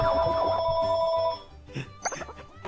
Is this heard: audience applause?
no